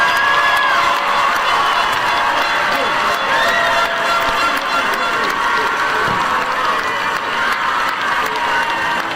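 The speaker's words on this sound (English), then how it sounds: "One last time, a round of applause for the" A large audience at a high school completion ceremony at Collins Career Technical Center applauds and cheers loudly for the 2026 graduating class, with sustained clapping, whoops and excited shouting throughout.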